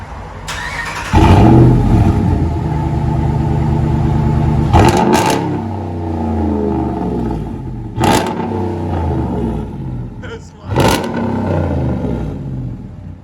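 A Dodge RAM truck with a 5.7L HEMI V8 and a loud aftermarket exhaust, Big Horn edition, idles with a heavy rumble and is revved several times, each sharp blip rising and falling back to a throbbing idle, close and loud.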